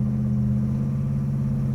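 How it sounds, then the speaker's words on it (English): A 1967 Pontiac GTO V8 idling through its exhaust pipes, a loud, steady low rumble close by with no voices. "Love hearing that muscle come out of those exhaust pipes."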